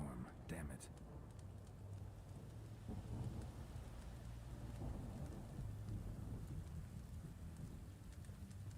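Steady, heavy rain hisses through a thunderstorm in the video game The Witcher 3, with low rolling thunder rumbling underneath and a brief sharper crack near the start.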